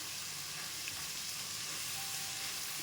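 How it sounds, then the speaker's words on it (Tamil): Onions sautéing in a pan for sorrel leaf thokku give off a dense, steady sizzle and frying hiss that carries evenly throughout. It is close and loud, with no voices. "பச்சை வாசம் போகிற வரைக்கும் நல்லா வதக்கிக்கணும்."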